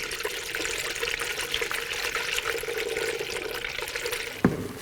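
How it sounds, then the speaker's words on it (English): Coolant, a 50-50 mix, pours steadily into the cooling system of a 2000-2006 BMW X5 3.0L inline-six engine: a continuous close splashing trickle that ends with a brief knock. "And you want to fill it up."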